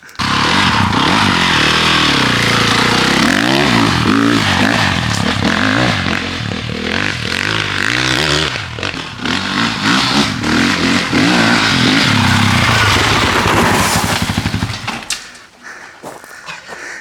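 A motorcycle being ridden, its engine loud and close, revving and changing pitch through gear shifts and acceleration for most of the stretch before cutting back abruptly near the end.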